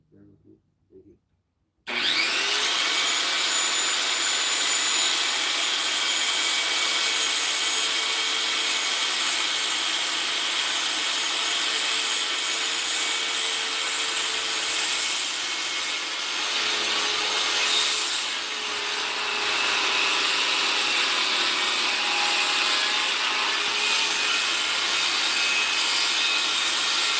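A wooden block is cut with a power saw, starting abruptly after a brief quiet moment and running loud and steady for over twenty seconds with a slight dip and surge midway.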